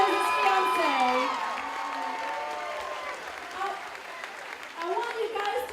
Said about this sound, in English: How about a big round of applause and congratulations for Matthew and his fiancée.